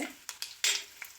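Curry leaves dropped into hot oil in a frying pan for a Kerala theeyal give a few short crackling bursts and spits, faint and close, with a soft stirring scrape between them.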